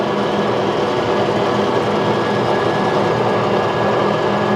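A 2023 Landmaster EV 4WD utility vehicle with a heavier duty crew roof driving at up to 30 miles an hour, giving a loud, steady rumble of drivetrain and road noise with no talk.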